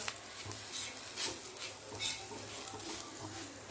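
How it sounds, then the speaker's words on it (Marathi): A spoon scrapes and stirs spicy green chilli fry with crushed peanuts in a pan, making soft repeated strokes with faint sizzling and occasional light clinks against the metal. "सगळं मिक्स करून घेऊया"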